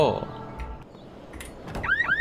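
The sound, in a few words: alarm sounding in video game Humanitz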